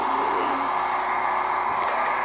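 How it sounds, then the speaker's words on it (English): Gas-powered vacuum pump running at a maple sap farm, a steady, loud mechanical drone with a constant engine hum that holds unbroken throughout, with no voices over it. "excuse the noise, because it's a gas-powered vacuum pump"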